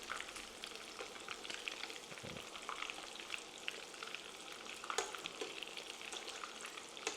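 Coconut shrimp frying in a pan of hot oil, a steady, dense crackling sizzle that holds even throughout, with a soft low bump partway through and no voices.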